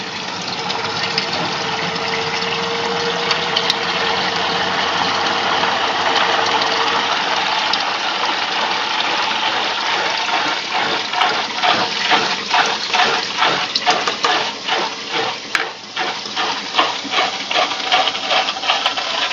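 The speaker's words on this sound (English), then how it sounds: "as this is filling up, the spinner is starting to vibrate away" A Maytag A50 washer tub filling with water while the spinner of a Simplicity twin-tub vibrates and spits out spin water, a steady rushing flow under a rattling mechanical buzz that grows more pulsing and uneven toward the end.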